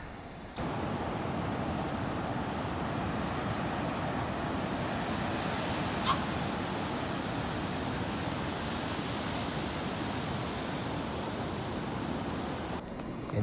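Constant roar of sea waves rolling onto a shore at dawn, heard during a jog, a dense unbroken rushing wash with some wind buffeting the microphone.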